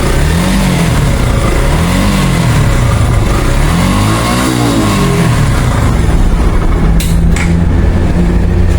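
A 2023 Suzuki Gixxer Monotone motorcycle engine runs close by and loud, its revs rising and falling in several smooth sweeps before settling into a steady idle, with no one talking.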